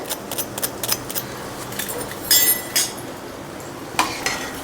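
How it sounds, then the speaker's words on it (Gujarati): Cooled, crispy fried cheese chili balls give several sharp, close crunches and cracks in irregular bursts, with no speech. "હું હજી તમને આની ક્રિસ્પીનેસ સંભળાવું. જો કેટલો અવાજ આવે છે, એકદમ કડક છે."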